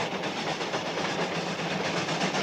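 The Cannonball, a steam train, running along the track, a steady loud rumble with rhythmic clatter of wheels and a hiss, no voices heard.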